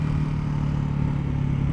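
Ducati Hypermotard 698 Mono single-cylinder motorcycle with an Akrapovic exhaust at full throttle in second gear, a steady loud droning engine note that holds throughout.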